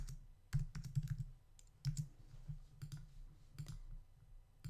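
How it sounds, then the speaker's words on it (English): A computer keyboard is typed on while entering a name in Cricut design software, producing irregular bursts of close, light key clicks with short pauses between them. "I'm going to type Gabriela."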